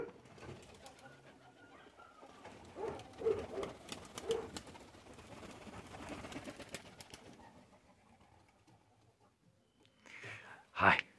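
An indigo bunting kept in a cage sings a bright chirping burst near the end, after stretches of background chatter and room noise, with a few faint earlier calls.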